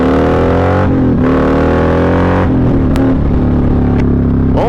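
Harley-Davidson 128 Street Glide with Burns exhaust, 74mm throttle body and chain drive being ridden, a loud deep rumbling engine close up with revs climbing and dropping through gear changes.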